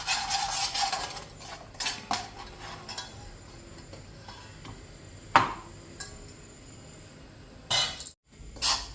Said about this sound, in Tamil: நல்லா ஒரு 2 நிமிஷம் எண்ணெயில் இப்படி கலந்து விட்டுக்கணும்